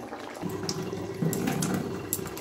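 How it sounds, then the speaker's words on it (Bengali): Water runs from a household tap while hands are washed and the faucet is rinsed. It makes a steady, close splashing stream with a few light knocks over it, and no voices are heard. "আমি হাতটা ধুয়ে আবার কলের ওপরে একবার জল দিয়ে ধুয়ে দিই"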